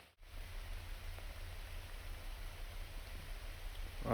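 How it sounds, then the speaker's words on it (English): Rain falls steadily outdoors during a thunderstorm, a soft, even hiss of drops that holds at a constant low level throughout, with no voices heard. "Well, I'm super glad it's raining,"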